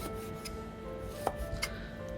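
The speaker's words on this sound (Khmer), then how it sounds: "គេឥឡូវយើងចូលមកដល់ការហាន់បន្លែ ហាន់សាច់" A knife chops vegetables, including spring bamboo, and pork for a stir-fry, making faint, sparse knocks against a quiet room hum, with a few sharper cuts standing out near the end.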